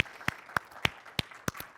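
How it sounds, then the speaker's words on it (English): Sparse, slow claps ring out one at a time, only about six in under two seconds, from a thin audience at a blockchain conference on construction and smart cities, moderately close and with no one talking. "Please give them a round of applause."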